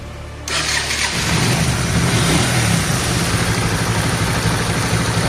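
A Mirage 250 motorcycle engine cranks and catches, then settles into a steady, loud, close idle with an even low rumble that carries on to the end, no voices over it.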